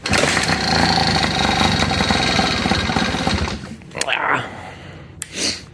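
A Yamaha PW50 dirt bike's small engine runs with a loud, buzzy, rapid two-stroke drone for nearly four seconds, then cuts out, followed by a couple of brief rustling bursts and bumps.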